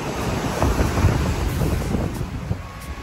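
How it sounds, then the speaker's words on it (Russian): A stormy sea surging wave after wave, heard as a continuous roaring wash with heavy wind buffeting the microphone and no voices. "Море, смотри, бушует. Море сегодня бушует. Вы видите, что волна за волной."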